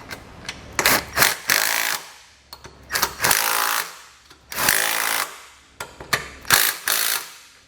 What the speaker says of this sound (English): And then we can come back and tighten down the 4 bolts here, holding on each side of our bumper beam.